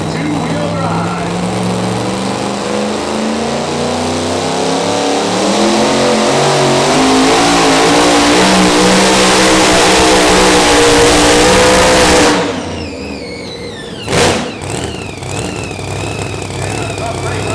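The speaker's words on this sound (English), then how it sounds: "Missy Nelson going to go to work here tonight with a beautiful looking truck" The Midnight Chaos super modified two-wheel-drive pulling truck screams at full throttle at the 2024 Pro Pull in Jerseyville, Illinois, with a loud, rising engine roar for about twelve seconds before cutting off sharply, then one short burst, while an announcer talks.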